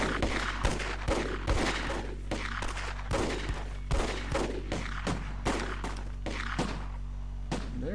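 Soldiers firing in the WWII tactics game Close Combat, a steady string of sharp, fairly distant gunshots and thuds, roughly a dozen evenly spaced reports over a low background hum, no voices.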